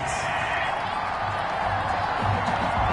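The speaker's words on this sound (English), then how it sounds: "Well, the crowd doesn't like that." A football stadium crowd lets out a loud, sustained roar of displeasure at a penalty flag on third down in a Ravens game, with a commentator talking over the noise.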